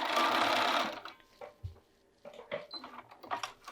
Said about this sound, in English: Align your underarm and sew along the 1/2 inch seam line.